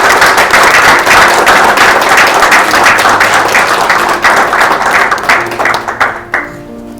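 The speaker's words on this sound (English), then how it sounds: "please can we give a round of applause to Natalie Wantege, who did that wonderful Rwandese dance" A crowd at a university citation ceremony applauds a performer after a Rwandese dance, loud dense clapping that holds strong for several seconds and then thins out and fades to a few last claps.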